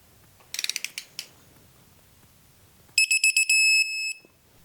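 A ratchet clicks in two bursts while engine bolts are torqued down on an Indian Scout Bobber motorcycle: a quick run of clicks, a pause, then a louder, longer set of close, crisp ratcheting strokes in a quiet room.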